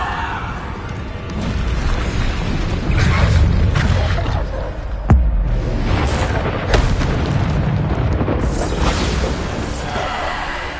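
Bombarda spell blasts in Hogwarts Legacy fight gameplay, a loud sustained rumble of explosions and crashing debris, with one sharp bang in the middle, amid dense combat noise and no talking.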